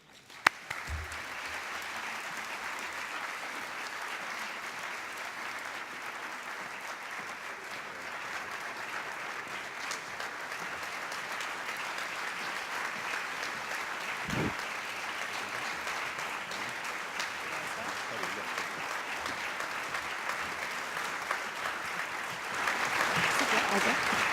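Sustained audience applause greets special guests Yvonne Chaka Chaka and Tobeka Zuma at the Social Good Summit 2011, a steady even wash of many hands clapping in a large hall that swells slightly toward the end.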